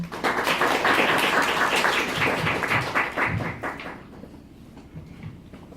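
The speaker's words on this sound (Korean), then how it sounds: "큰 박수 부탁드립니다." Applause from an audience at a Sony a6300 camera launch event builds as a dense patter of many hands, then thins out and trails off into near quiet.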